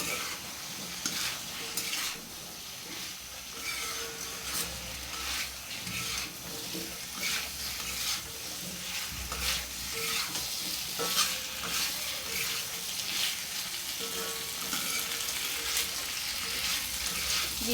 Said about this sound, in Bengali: এর মধ্যে আমি এখন ভেজে রাখা আলুগুলো দিয়ে দিচ্ছি।